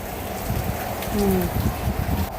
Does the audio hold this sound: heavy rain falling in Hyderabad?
yes